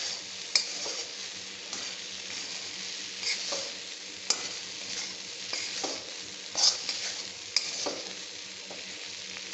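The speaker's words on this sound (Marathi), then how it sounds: "हे सगळे मसाले एकत्र मिक्स करून घ्यायचे" Okra with spices is stirred in an iron wok, a soft, continuous sizzle punctuated by scattered metallic scrapes and clinks of the spoon against the pan, fairly quiet and close, with no speech.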